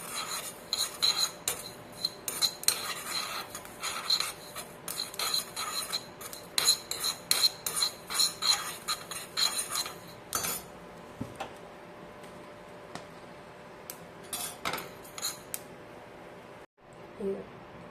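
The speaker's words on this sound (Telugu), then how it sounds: "కొద్దిగా మెంతులు, కొద్దిగా జీలకర్ర, ఇవి దోరగా వేసుకోవాలి." Fenugreek and cumin seeds dry-roasting in a pan while being stirred, giving steady rasping scrapes and light metallic clinks of a utensil against the pan, close and fairly loud, with a brief quieter gap near the end.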